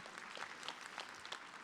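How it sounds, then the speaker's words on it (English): Applause from a breakfast audience at a national leadership forum, a short, fairly faint patter of scattered claps lasting under two seconds. "You can applaud."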